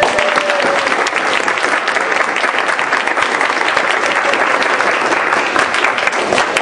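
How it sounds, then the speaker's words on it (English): A large audience at a law symposium applauds continuously, dense, steady clapping filling the room with no break. "I think everyone needs to give her a round of applause"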